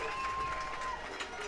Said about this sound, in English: Listen to this crowd tonight.